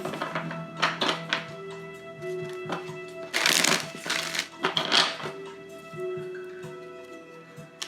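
Tarot cards handled and shuffled in a series of quick riffling bursts and soft thunks and taps, close and moderately loud, with a steady background tone underneath.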